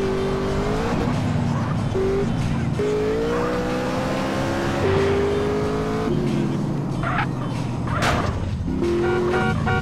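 Car engine in Grand Theft Auto: San Andreas revving hard and shifting through gears at speed, with tire squeal and skidding near the end, under a continuous loud game soundscape.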